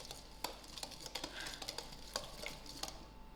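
Ingredients for kumquat pickle being mixed in a bowl, with a steady run of soft scraping and clinking stirs, several sharper taps of utensil against the container, fairly quiet and close.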